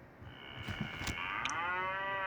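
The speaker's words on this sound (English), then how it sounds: "They eat grass and they moo like this." A cow moos in a long, steady low call with clear harmonic bands, loud and close on a farm, heard alone without talk.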